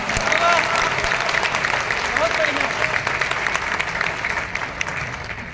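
Audience applause after a Hindi poetry recitation, broad sustained clapping from a crowd at steady volume that tapers slightly toward the end, with voices faintly beneath it.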